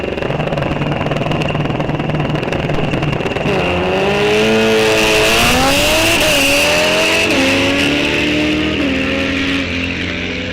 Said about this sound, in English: Little purge of the nitrous out of the Hayabusa. This thing is going to be incredibly fast.